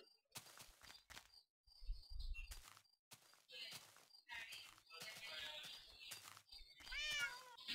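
Two cats meow in a jungle biome inside a video game, several short, faint calls scattered among soft clicks and thuds, with a rising, wavering meow near the end.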